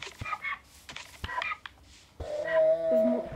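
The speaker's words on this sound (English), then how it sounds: "Okay, I got a donkey." A donkey mob in the Minecraft video game brays and wheezes in short broken calls, followed by a longer, louder harmonic bray that holds steady near the end.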